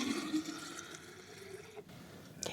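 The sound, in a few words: pouring fresh water into a kombucha jar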